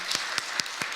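Several sharp claps ring out in a sparse, uneven rhythm, like the scattered start of applause at a church worship service.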